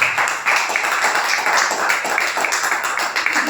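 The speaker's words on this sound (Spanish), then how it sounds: "Den un fuerte aplauso al Señor." A church congregation gives a loud, sustained round of applause to the Lord during a Spanish-language worship service. The dense clapping holds steady and fairly close throughout, with no voices standing out.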